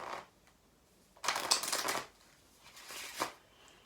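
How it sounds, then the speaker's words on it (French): A deck of playing cards is shuffled and cut close by, two bursts of quick riffling flutter followed by softer snaps and slides, fairly quiet with no talking. "Maintenant, on va effectuer des coupes pour perdre la carte"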